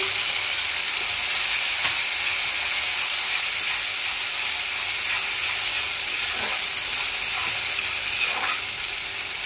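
A paste of onion, tomato and green chili fries in oil with a continuous close hiss and sizzle, punctuated by occasional soft stirring strokes, no talking.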